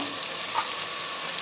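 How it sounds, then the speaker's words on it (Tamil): Brinjal sautés in a pan with mustard seeds, onion and dried red chilies for sambar, giving a steady, close hiss of frying with no talking. "கத்திரிக்காய் போட்டுக்கலாம்."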